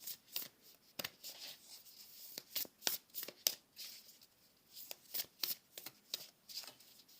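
Oracle cards are shuffled by hand close up, a string of crisp riffling bursts and soft slaps in an uneven rhythm, fairly quiet, with no talking.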